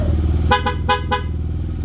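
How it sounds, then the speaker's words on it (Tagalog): A Corsa-style aftermarket horn on a Yamaha NMAX V2 scooter gives four short, loud honks in two quick pairs over a steady idling engine. "Corsa horn"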